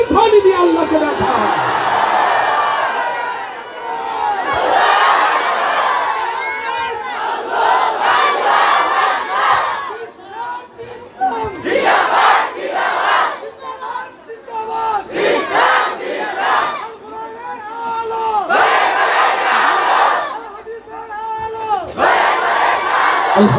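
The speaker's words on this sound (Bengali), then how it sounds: "কারা কারা তাকবীর ধ্বনি দিয়ে আল্লাহকে দেখা" A large crowd at an Islamic gathering in Narayanganj chanting takbir in repeated loud, full-throated bursts, several call-and-response waves separated by brief pauses, close and energetic.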